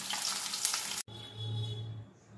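Rohu fish fries in oil in a pan. A loud close hiss breaks off abruptly midway and gives way to a lower, quieter sizzle with a faint hum, with no talk.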